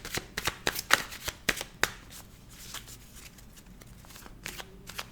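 A deck of cards is shuffled with a quick series of sharp, close riffling snaps, then cut, leaving quieter handling rustles and a soft tap near the end, with no speech.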